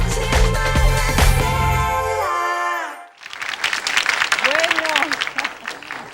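Music from a Spanish-language TV talk show ends, and then a studio audience breaks into sustained applause for a Cuban singer-songwriter. A voice speaks over the clapping.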